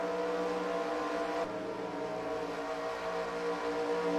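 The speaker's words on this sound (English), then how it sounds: "Here comes the next pack of cars" In the eNASCAR Heat racing game at Daytona, a steady, droning engine roar from a pack of race cars holds throughout, loud and close with a brief dip partway through.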